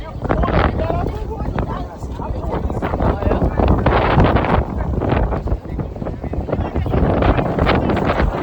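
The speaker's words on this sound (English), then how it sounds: "I think it's so windy out here" Strong wind at a cruise port in Costa Maya roars and buffets the microphone in a loud, continuous rumble, with voices faintly mixed in.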